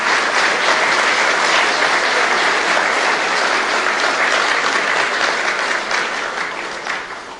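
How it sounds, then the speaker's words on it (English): A large audience at an official ribbon-cutting ceremony in the Bahamas applauds the Prime Minister: dense, loud, steady clapping that holds for several seconds before starting to fade. "Another round of applause for the Prime Minister."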